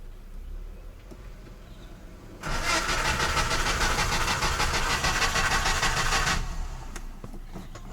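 A carburetted Peugeot 505 GL engine cranks and catches, its loud steady running beginning after a quiet stretch and lasting about four seconds before cutting back to quiet.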